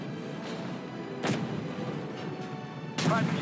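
Tank cannon fire in the tank game Tank Company: two sharp, loud booms about a second and a half apart over a steady engine rumble, with a voice speaking briefly in German.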